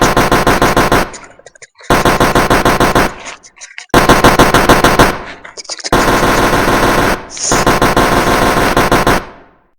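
A dummy gun used to scare monkeys away from crops fires four long, rapid bursts of loud, close machine-gun-like shots, with short silent gaps between the bursts and no talking.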